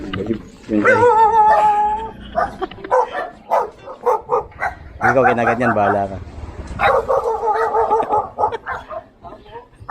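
A dog barks and yips in short bursts close by while people talk over it during Christmas caroling.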